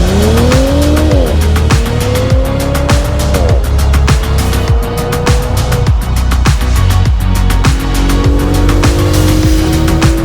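A 2022 Porsche Macan engine revs hard and shifts up through gears, tires squealing repeatedly through corners, loud and close throughout.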